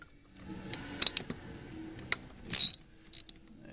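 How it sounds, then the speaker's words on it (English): Small metallic clicks and ticks from a Torx driver working loose screws on the plastic throttle body of a 1995 Mazda 626, arriving in short separate bursts with quiet gaps between them. "now we're going to use the torque driver to remove our torque screws here"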